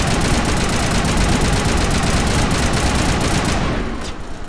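Rapid, sustained gunfire in the video game Mass Effect Legendary Edition: a dense, loud burst of automatic shots runs steadily for several seconds, then thins out and fades near the end.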